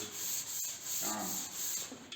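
Rough, scratchy rubbing of coarse sandpaper over a first coat of high-build primer in a few back-and-forth strokes, close up and steady, with no voices.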